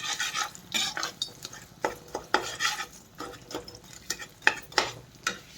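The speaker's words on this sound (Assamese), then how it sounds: "সেইখিনি মই এতিয়া গলি যোৱালৈকৈ ভালকৈ লৰাই থাকিম।" A ladle scrapes and clatters around a wok as jaggery melts in oil for a sweet pickle, giving rapid, uneven stirring strokes close by over a soft frying sizzle.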